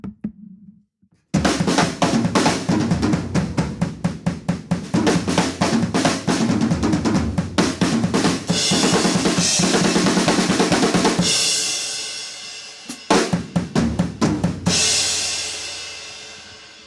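A drum kit plays energetic fills driven by the kick drum, loud and close, with dense rapid tom and snare hits and crashing cymbals, a brief pause, then more fills ending in a ringing cymbal wash.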